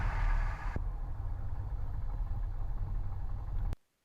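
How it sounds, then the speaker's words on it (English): A 1967 Cessna's engine idles with a steady low rumbling drone heard from inside the cockpit, the sound cutting off abruptly near the end. "Plane is idling."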